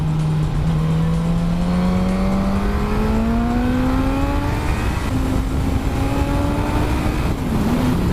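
A 2020 Suzuki GSX-S1000F motorcycle engine pulls under throttle, its loud steady tone rising in pitch as it accelerates, then easing briefly and climbing again.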